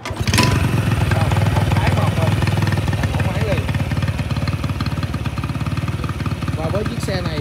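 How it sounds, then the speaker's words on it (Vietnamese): Honda Super Cub 50 motorcycle engine firing up with a quick start, then settling into a steady, close, rapid-pulsing idle that runs loudly to the end. "Nổ máy liền nè."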